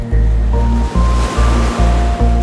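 Light blue ocean waves roll and wash in a loud, continuous surf, with repeated swells rising and falling over a steady rumble.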